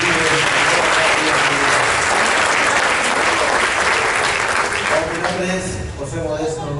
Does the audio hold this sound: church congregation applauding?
yes